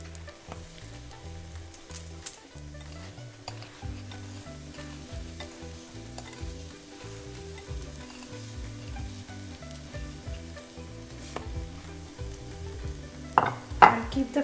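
Coated eggplant pieces frying in a pan over a medium flame make a soft, continuous sizzle under a rhythmic musical background, with a few louder spits and clatters near the end.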